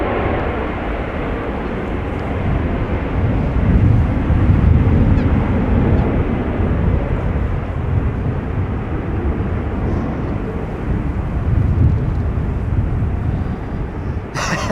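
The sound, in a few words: airliner landing at Amsterdam Schiphol Airport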